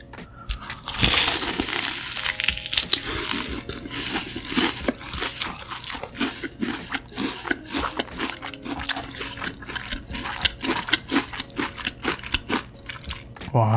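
Crispy fried pork cutlet (donkatsu) is bitten and chewed close to the mic in an ASMR mukbang, giving dense, continuous crunching and crackling with wet chewing throughout.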